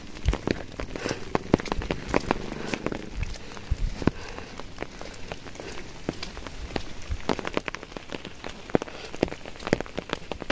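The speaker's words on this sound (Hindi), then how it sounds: "बहुत तेज बारिश लग गई" Heavy rain patters hard and densely on a nearby roof in India, with sharp irregular drops splashing constantly as water leaks through the ceiling.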